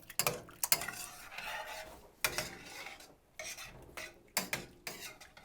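A utensil stirs milk into celery soup in a pot, scraping and clinking against the sides in uneven bursts, close and fairly quiet, with short pauses between strokes.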